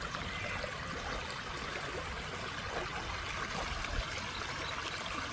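Steady water flowing from a reservoir overflow outdoors, a continuous broadband rush and trickle at an even level throughout, with no voices.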